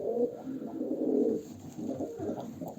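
Tumbler pigeons coo in soft, low, rolling phrases, several birds overlapping in a steady murmur close by, with a brief dip in the middle before the cooing resumes.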